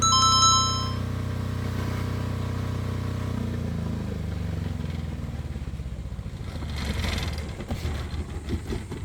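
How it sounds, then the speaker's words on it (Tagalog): A Philking 10,000 STRA generator hums steadily, then winds down as it shuts off automatically when mains power returns, its drone sinking in pitch and ending in a few uneven mechanical rattles, close and fairly loud, with no talking. "hintayin natin na kusang mag-turn off yung ating generator dahil nga bumalik na yung supply ng ating Meralco"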